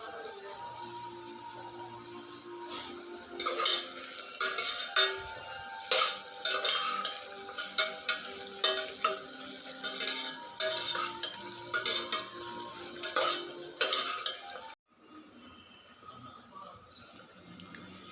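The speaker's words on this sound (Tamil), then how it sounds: "வெங்காயம் கொஞ்சம் நேரம் எண்ணெயிலே நல்லா ஃப்ரை ஆகட்டும்." Chopped onions frying in oil for chicken biryani, a steady sizzle broken by repeated scraping strokes of a spoon stirring the pan, then the sizzle drops quieter near the end.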